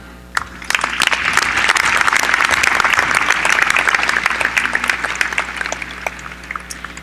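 Sustained audience applause at a Cypress College commencement ceremony, loud dense clapping from a large crowd that starts abruptly and holds steady for several seconds before slowly thinning.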